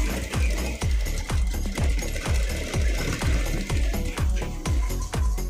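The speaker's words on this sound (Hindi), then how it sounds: "यहाँ पे हमको मिडिल में सिलाई लगाना है" A sewing machine stitches a double katori blouse, its needle striking in a steady, rapid run of sharp even thumps over a continuous mechanical whir, close and fairly loud with no talking.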